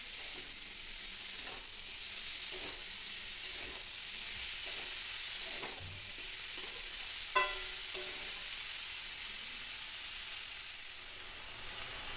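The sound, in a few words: stirring chopped banana flower with potatoes in pan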